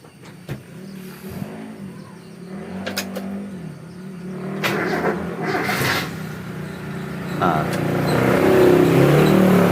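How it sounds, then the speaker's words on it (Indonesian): A racing motorbike passes during a workshop session on carburettor idle mixture tuning, its engine note swelling steadily louder toward the end over an idling engine and background noise, with people talking. "biar pembalapnya lewat"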